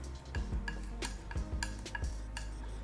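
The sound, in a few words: mixing orange and blue paint together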